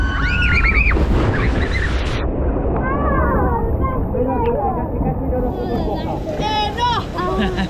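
Water rushes and splashes steadily on a log flume ride at PortAventura, loud and close throughout, with people talking and shouting over it.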